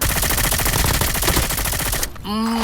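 Video game gunfire, a dense rapid burst of automatic shots rattling nonstop for about two seconds, loud and close, before cutting off into quieter game sounds.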